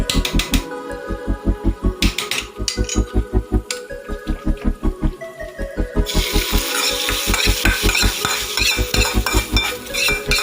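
Ghee tempered with curry leaves is stirred into Tulu-style chicken sukka frying in a pan, giving a loud, steady sizzle with rhythmic scraping strokes of a spoon against the pan throughout.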